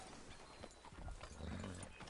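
Horse hooves clip-clopping faintly in Red Dead Redemption 2, a quick irregular patter of soft thuds under low background noise.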